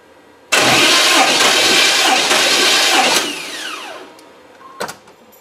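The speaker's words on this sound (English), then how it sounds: "Now I'll go inside the truck and I'll crank on it and we'll see what it goes up to." Small-block Chevy truck engine cranking on the starter during a compression test, a loud steady churning of several revolutions that stops abruptly, followed by a faint clunk, with no talking.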